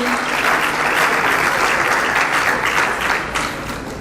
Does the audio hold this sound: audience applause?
yes